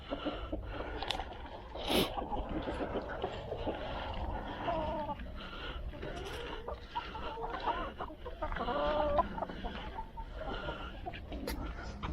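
Hens and some ducks clucking and pecking as they eat a feed of mostly sunflower seed with a little grain mix, a steady busy chorus of soft clucks and rustling, with occasional louder calls throughout.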